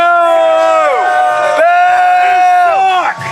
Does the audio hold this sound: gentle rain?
no